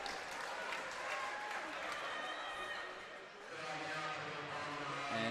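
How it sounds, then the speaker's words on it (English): A crowd cheers and claps after a basketball grand final between Ringwood and Waverley, a broad sustained roar of applause filling the arena for several seconds, dipping briefly midway before swelling again, with some talk underneath. "Some potentially sarcastic cheers coming from the crowd out here."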